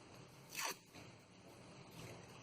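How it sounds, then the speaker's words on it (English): Green floral tape peeled from its roll for crepe paper flower work, a single brief ripping rasp near the start, then quiet rustle. "take the green floral tape and take out the long piece"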